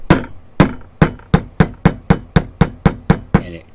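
A hammer taps a banded rivet setter down onto a copper rivet keeper, about eleven sharp, evenly spaced metallic strikes, close and loud with no talk.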